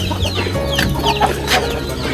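Chickens cluck and squawk in a busy, overlapping chorus just after being let out on a farm, with sharp calls rising over a steady low background and no talk.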